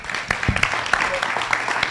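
Audience applause for a panel at a community event about restoring medical trust: a steady, moderately loud patter of many hands clapping continuously, with scattered sharper claps, as the crowd responds to the panel.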